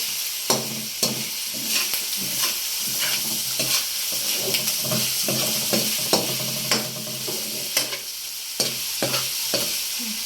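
Pork frying in a pan for sautéed cabbage gives a steady, close sizzle broken by frequent sharp pops and crackles, with stirring scrapes throughout and no voices.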